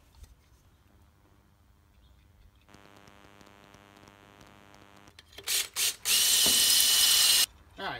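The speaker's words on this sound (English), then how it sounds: "So I drilled four holes" A low hum gives way to a drill motor whirring, then a loud, steady grinding whine as the bit cuts holes through metal for a 1955 Buick Special's truck arm suspension before stopping.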